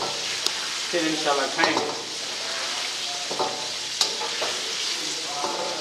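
Chicken karahi sizzles and fries in a pan while a spoon scrapes and stirs it in repeated strokes, close and fairly loud; a few brief spoken words come over the cooking noise.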